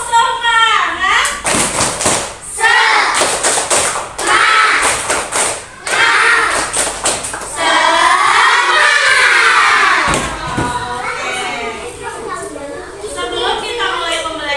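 Classroom of first-grade schoolchildren at an elementary school chanting and clapping a rhythmic 'tepuk semangat' spirit cheer, loud, energetic bursts of young voices and hand claps with shouting, filling the room for most of the stretch.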